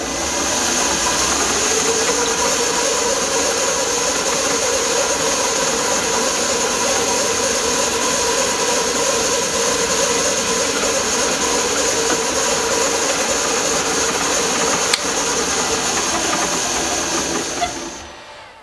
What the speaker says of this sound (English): The mounting holes are then measured, centre popped and drilled.